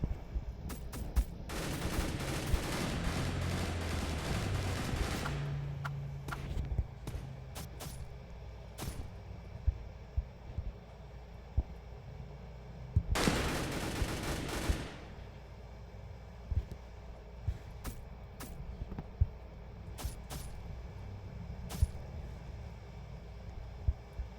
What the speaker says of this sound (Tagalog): barilan